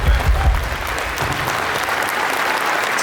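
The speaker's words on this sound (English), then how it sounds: "I just give them a round of applause for that." A crowd at the SEMA 2021 New Products Breakfast gives a round of applause, dense and loud, heaviest at the start and then holding steady without speech.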